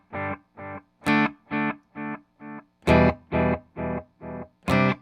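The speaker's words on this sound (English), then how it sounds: "And here is the Brigadier at these settings." An ash T57 Telecaster played clean through a Strymon Brigadier delay pedal into a Morgan RCA 35 amp: eleven distinct plucked notes or chords in a steady rhythm, each with a short tail, loud and close with no talking.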